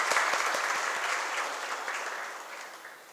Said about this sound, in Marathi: आपण सर्वांनी टाळ्या वाजवून त्यांचा कौतुक